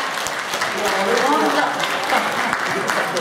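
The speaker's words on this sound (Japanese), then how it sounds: "大きな拍手をお願いいたします" A crowd applauds steadily, with a few voices calling out over the clapping.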